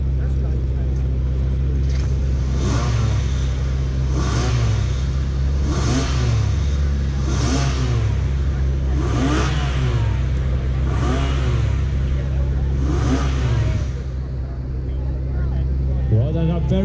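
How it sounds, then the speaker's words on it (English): Porsche 911 997 with a standard 380-horsepower flat-six engine blips repeatedly at a supercar sound-off event, about seven sharp revs rising and falling over a constant loud idle drone, with a brief voice. "So let's hear this gorgeous flat 6 sync."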